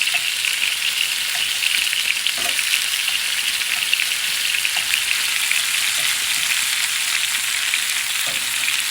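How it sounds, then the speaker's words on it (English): Pieces of steak sear in a hot pan with a steady, dense sizzle that holds even throughout, close and loud, with a few faint clicks underneath and no voices. "it doesn't take long at all to do a quick sear on these pieces of steak"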